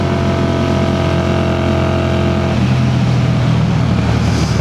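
A 1981 Honda CX400C motorcycle engine runs at a steady hum, then shifts to a lower, rougher note partway through. It is loud and close, with no voices.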